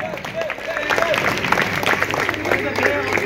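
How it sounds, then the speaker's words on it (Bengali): A crowd at a club event applauds during a memento presentation, with steady, moderately loud clapping running beneath a speaking voice throughout. "হাততালি চাই জোরে"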